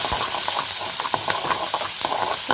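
Onions and green chillies sauté in a hot pan, giving a close, steady sizzle and hiss broken by soft stirring scrapes and taps.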